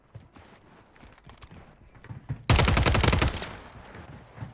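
Video game gunfire, a rapid burst of loud automatic shots about a second long after scattered quieter clicks and footstep-like taps, with a faint high tone afterward.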